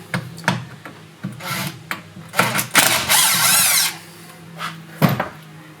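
Phillips head screws being removed from the steering wheel of a 2008 Club Car DS gas golf cart, heard as intermittent scraping, rubbing and ratcheting screwdriver turns nearby with a longer grinding stretch midway and no talk.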